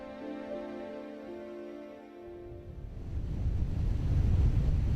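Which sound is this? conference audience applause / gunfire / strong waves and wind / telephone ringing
strong waves and wind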